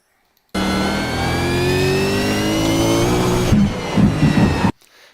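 A car drifts through a corner at the Motegi track, its engine holding a loud, steady rising drone for several seconds before cutting off abruptly near the end.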